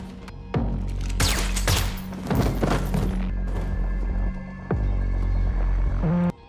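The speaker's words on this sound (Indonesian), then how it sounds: "Tiba-tiba, Niall muncul menembak mati kedua polisi ini" Gunfire in a tense film scene where a man shoots two police officers: loud, booming reports and heavy thuds over a droning hum and score, with no speech.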